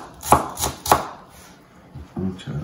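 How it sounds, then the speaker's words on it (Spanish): Knife chopping vegetables, onion and chilies, on a board for Severiano-style lentil soup: three sharp, evenly spaced chops close by, then softer knocks and rustling. "Vamos a picar la verdurita para la sopita de lantejas"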